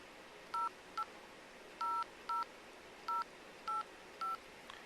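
Keypad tones from an HTC Touch Flow phone as a number is dialed: seven short, clear beeps in an uneven rhythm, close and fairly quiet, with no talking.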